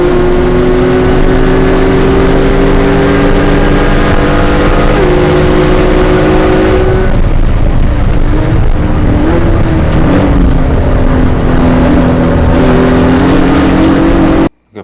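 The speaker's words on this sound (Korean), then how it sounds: "방금 보신 인제 메인 스트레이트에서의 가속 구간을 비교를 해보면" Sports cars, including a Mercedes-AMG GT R and Porsche 911 GT3 RS models, accelerating hard down the Inje main straight: a loud, sustained engine roar with rising pitch and an upshift midway, continuous and close, with no talk.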